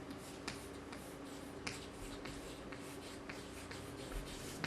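Pen or marker writing down a theorem on subgroups by hand, a steady close scratching with sharp taps at each stroke start, quiet and continuous with no voice.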